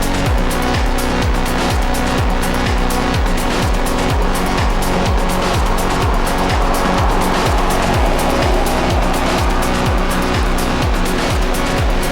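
Lexus GX engine revving and accelerating with an automatic gearbox, a loud steady mechanical roar with rhythmic pulsing that stays close and constant throughout, with no talk over it.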